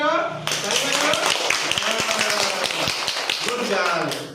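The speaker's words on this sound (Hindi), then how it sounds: "ताली मारो" Schoolchildren clap together in a classroom, a dense burst of overlapping hand claps that starts abruptly and keeps going steadily, near and fairly loud, with a teacher's voice audible at the start.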